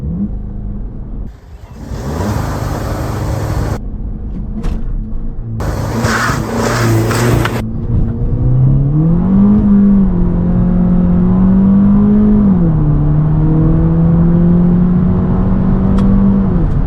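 A VW Polo GTI hot hatch with DSG gearbox heard from the passenger seat, loud cabin engine drone rising as it accelerates, with gear changes and a sustained humming pull, wind and road rumble underneath.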